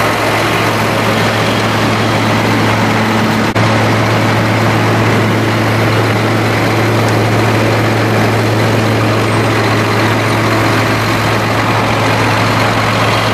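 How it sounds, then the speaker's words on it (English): A big tractor's 9-liter straight-six 250-horsepower diesel engine idles loud and close, a constant low rumble with a steady drone that never changes pace. "The 9-liter straight 6 engine, 250 horsepower."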